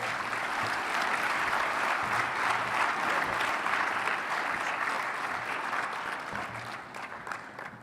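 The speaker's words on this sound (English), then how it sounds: "Another round of applause, please." An audience at a debate event claps in a loud, sustained round of applause after a speech; the applause holds steady, then thins out near the end.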